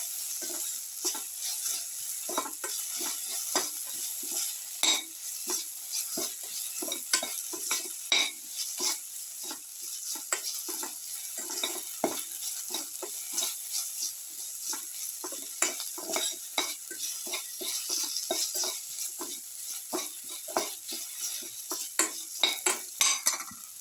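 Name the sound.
stirring and mixing food with salt in a pan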